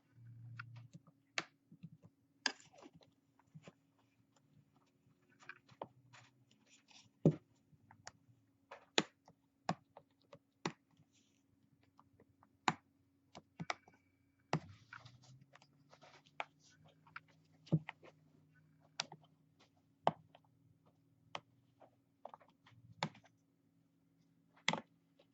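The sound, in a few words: prying Kindle Fire back cover off with Sesamo tool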